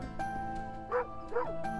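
A cartoonish dog in the Moonlighter video game gives two short bark-like yips over steady game music, each call rising and falling quickly, with no talking.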